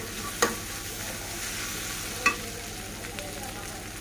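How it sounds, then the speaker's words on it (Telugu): Close stirring of a carrot, egg and fenugreek rice mixture in a frying pan, with a soft sizzle under scraping strokes and two sharper clinks of the utensil against the pan. "చూడండి, ఇలా బాగా కలుపుకోవాలి."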